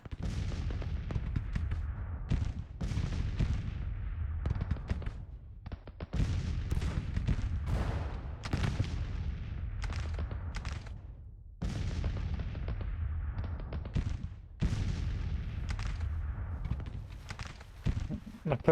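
Cannon and artillery fire on a Civil War battlefield in the strategy game Grand Tactician: The Civil War, with repeated heavy booms and crackling volleys coming in bursts and gaps across the stretch, loud and close.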